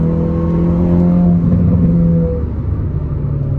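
Race car engine on a track at Wodonga/Barnawartha, a loud, close sustained drone with the throttle held steady and then easing off as the car runs wide out of a corner.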